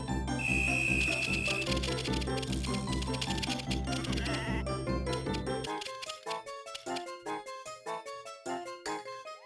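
Sheep bleat in a farming video game, the calls layered over busy game music and effects at first, then ringing out as separate short cries over a sparser stretch.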